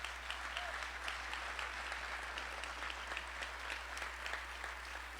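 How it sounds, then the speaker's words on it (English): Steady applause rolls through a hall during Aurora's 2022 state of the city address, faint and distant, with a low electrical hum running beneath it. "give it a round of applause"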